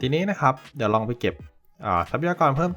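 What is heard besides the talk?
No distinct noise like a dog, phone or traffic.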